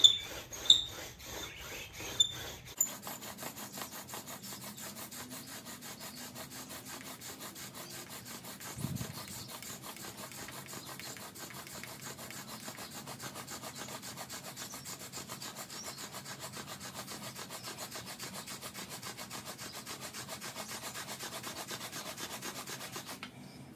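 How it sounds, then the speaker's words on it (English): A wooden bow drill spindle grinds steadily against a wooden fireboard with a continuous rhythmic rubbing, fairly quiet and close, after a few sharp knocks at the start. "Might have to bow drill a little bit quicker to keep everything held together."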